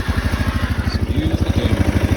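A Honda Ruckus fitted with a Yamaha Majesty 400 engine running just after a roll start, a loud, close, rapid, even engine putter with a steady pulsing beat.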